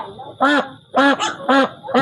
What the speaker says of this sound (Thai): นี่แหละเป็ดจ้ะพี่น้อง